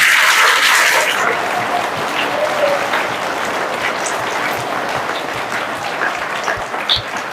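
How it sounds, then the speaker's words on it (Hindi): Children at a church retreat clap together in a sustained, even burst of applause that fills the room and stays steady before tapering slightly at the end. "अरे इसलिए ताली तो बजाओ"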